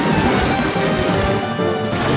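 Suicune's attack landing in the video game Pokémon Battle Revolution, a loud, sustained crashing impact filling the whole moment with no talk over it.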